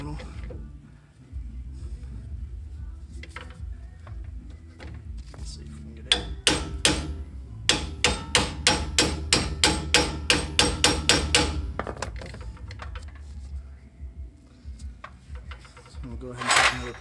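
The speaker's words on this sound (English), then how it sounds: "Go ahead and take another pry bar and then turn the strut." Someone works a pry bar against the front strut of a 2017 Ram 1500 during a leveling kit install, and a burst of rapid metallic knocks and clanks repeats for several seconds after scattered single taps.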